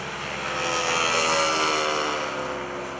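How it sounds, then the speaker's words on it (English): A Stearman biplane with a Pratt & Whitney radial engine makes an airshow flyby at Greenwood Lake, its engine and propeller droning loudly and steadily as it swells and then slowly fades. "You do, however, hear that beautiful Pratt & Whitney engine."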